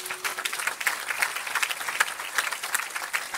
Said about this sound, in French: Viens, on acclame le Seigneur pour elle.